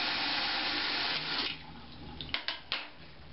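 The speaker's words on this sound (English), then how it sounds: "Notice how the water rides the straight spoon from the beginning to the end." Water from a tap runs steadily over a straight metal spoon, a continuous hiss that tapers off and gives way to a few close drips and splashes.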